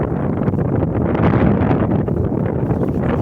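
Loud, steady wind buffets the microphone, a continuous roaring rush with slight gusts and no pauses.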